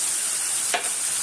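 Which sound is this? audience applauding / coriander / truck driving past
coriander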